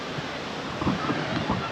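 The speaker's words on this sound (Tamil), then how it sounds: "உங்களுக்கு ஃபால்ஸ் தண்ணி ஓடுது" Water from a family bathing waterfall rushes steadily as a broad noisy wash, close and continuous, with faint voices and wind buffeting underneath.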